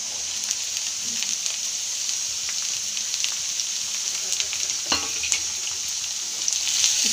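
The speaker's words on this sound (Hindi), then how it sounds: "इसको ही मैं इसी के साथ फ्राई कर रही हूँ" Finely chopped capsicum fries in a pan for pav bhaji with a constant hissing sizzle, broken by scattered pops and a sharper clatter of stirring partway through.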